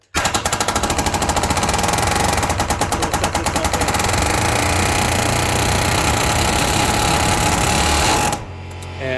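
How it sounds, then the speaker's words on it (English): A palm nailer drives a nail into a beam, a loud, rapid, continuous hammering rattle lasting about eight seconds before stopping abruptly, with an air compressor noise underneath and no talking. "You hold the palm portion, and then wherever you want to put the nail, so in my case, I'm going to go right there, you push, and it'll start doing it."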